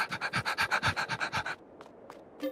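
A dog in Farming Simulator 22 pants rapidly at close range, about a dozen quick rhythmic breaths, then stops, followed by a few faint soft rustles.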